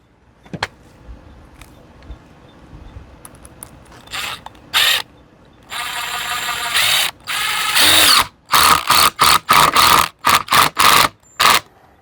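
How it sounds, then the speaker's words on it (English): Screw driven into a wooden 4x4 post for a DIY light post: a power driver whirs in several bursts, the final ones short and rapid as the screw seats, loud and close with no talking. "I'm just going to take this, drop me a screw in."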